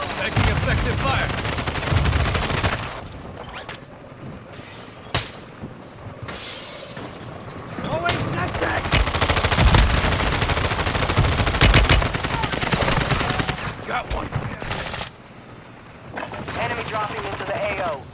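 Bursts of automatic gunfire and sharp shots in Call of Duty: Modern Warfare II, loud and repeated in clusters with gaps, over a battlefield din and occasional radio-style voices.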